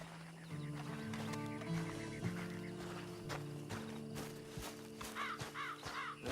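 A horse in the game Red Dead Redemption 2 whinnies and snorts amid clip-clopping hooves, with crows cawing nearby and scattered footsteps.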